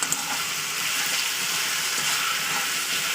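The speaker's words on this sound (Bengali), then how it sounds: "আমি গ্যাসটাকে পুরো জোরেই দিয়েছি আস্তে দিই নি গ্যাসটা জোরে দিয়ে ভালো করে ফ্রাই করে নেবো" Potatoes fry in a pan over a gas flame turned up full, giving a steady, bright hiss and sizzle with a gentle crackle throughout and no voices over it.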